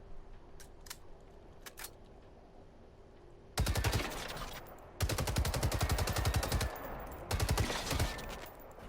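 Bursts of automatic gunfire tear into a Harvester's gas tanks in the video game Generation Zero, three loud rapid volleys breaking after a quiet stretch with faint distant shots.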